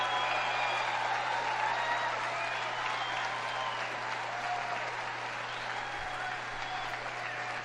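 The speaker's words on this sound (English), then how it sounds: "The sad part is there's kids in that crowd clapping." At the CPAC political conference, a large crowd, children among them, claps in a steady, dense wash of applause heard from a distance, with a faint steady hum underneath and voices murmuring through it.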